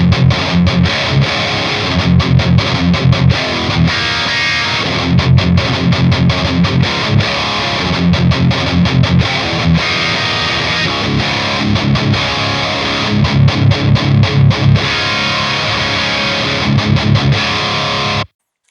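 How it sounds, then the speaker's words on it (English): Heavily distorted electric guitar, an ESP LTD Phoenix 1000 Deluxe played through Revv G3 and G4 V2 drive pedals, chugging palm-muted riffs with sustained chords, loud and continuous, cutting off abruptly at the end. "I'm sitting here with my ESP LTD Phoenix 1000 Deluxe quilted maple into the Revv G3 and G4 V2 pedals"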